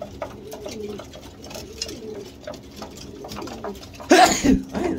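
A person gives a sudden loud cough near the end, preceded by soft cooing from racing pigeons at a breeding station in the background.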